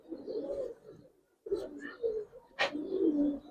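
Giribaz pigeons coo in close, soft throaty bursts, three rolling calls separated by short pauses, with a brief sharper sound in the middle.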